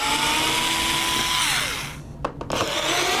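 A power driver or drill runs loud and steady while backing screws out of a circuit board panel, its whine holding pitch and then dropping off. A brief pause and a couple of short bursts follow before the motor whirs again.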